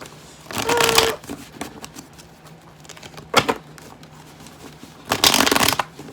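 A deck of tarot cards is shuffled up close in three loud riffling bursts, one near the start, one brief in the middle and one longer at the end, with quieter card handling and soft rustles between them.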